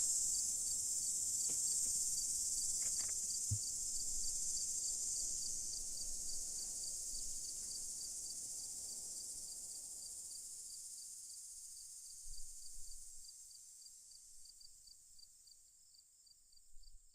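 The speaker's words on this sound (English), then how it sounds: "Is that cicadas or crickets?" Insects chirp in a dense, high, steady trill in a virtual lobby setting, fairly close and continuous, fading away over the last few seconds with faint low rustles beneath, no talking.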